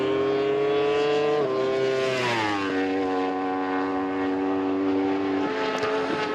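Racing motorcycles, including a Yamaha, scream around Chang International Circuit. A close engine holds a high, steady note, dips with a downshift, then settles at a lower pitch.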